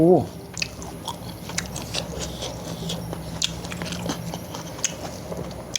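Close, wet chewing and crunchy bites of blanched okra eaten with steamed red tilapia and fermented fish dipping sauce, in a steady series under casual talk.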